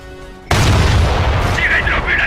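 An explosive blast destroys bunkers in a wartime action film: one sudden, very loud boom lands just after the start, then a rough, rumbling roar sustains to the end.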